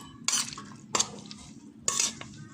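Kinilaw seaweed salad made with guso is stirred in a bowl, giving three separate bursts of wet scraping and clinking, close and fairly quiet, with short pauses between strokes.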